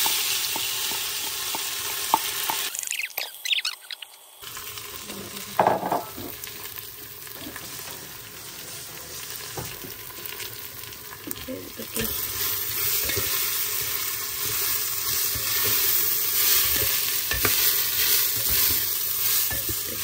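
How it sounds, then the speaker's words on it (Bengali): Marinated rice frying in oil with bay leaves, cinnamon and black cardamom for pulao, a continuous close sizzle with scraping stir strokes throughout and a short pause early on. "এই যে চালটা ভাজা হয়ে গেল"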